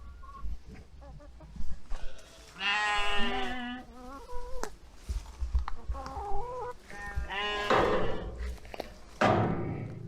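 Several bleats from a lamb, wavering and nasal, come in bursts across the clip, fairly close, with quieter gaps and some low background noise between.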